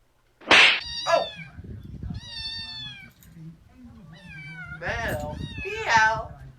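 A cat meows several times in drawn-out, wavering cries with caterwauling tones, loud and close, alongside other voices and sounds.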